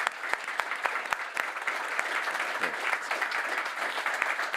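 Audience applause at a whisky forum session, a steady wash of many hands clapping with some sharp nearby claps standing out, moderately distant and sustained throughout.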